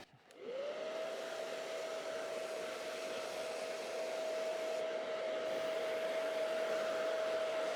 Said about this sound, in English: We're going to do it with the hairdryer, okay?